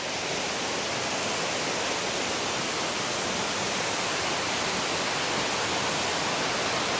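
Tuscarora Falls at Ricketts Glen, a 47-foot waterfall, roars as a steady, dense rush of falling water, loud and unbroken throughout with no voices.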